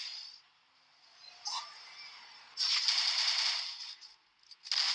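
Bursts of gunfire from a first-person shooter video game during a one-on-one match, with a short shot near the start, then a longer loud rattling burst and another burst at the end, close and dry with no talk.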